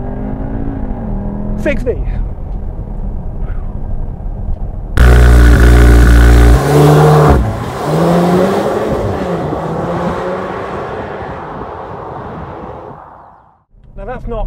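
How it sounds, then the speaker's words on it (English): A VW Tiguan R's engine idles, then roars into a loud full-throttle launch-control start, revving hard through gear changes before fading into the distance as a voice speaks. "I'm going to put my foot down on the throttle now, launch control active, go"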